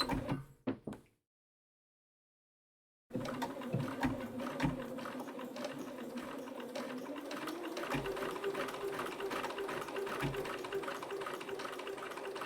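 A sewing machine runs steadily for about nine seconds after a brief pause, a continuous close-up motor hum with rapid needle ticking; a few short knocks and a little movement come before it.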